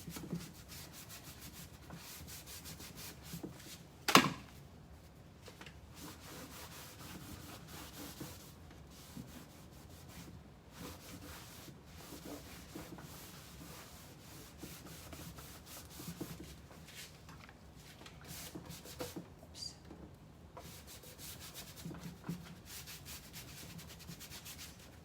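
Dark wax being rubbed by hand onto wood furniture: soft, repeated scrubbing and rubbing strokes, fairly quiet and close, with one sharp knock early on.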